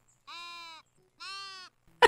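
Sheep in the building game Tiny Glade let out two clear, evenly spaced bleats, each about half a second long, close and loud against silence, followed by a brief click.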